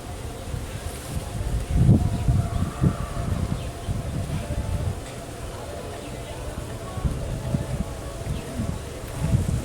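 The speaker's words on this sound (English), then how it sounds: "Usually only got one bee buzzing around me." A single bee buzzes around a beekeeper during a hive inspection, a low, wavering hum close by, with wind rumbling against the microphone and a few soft knocks.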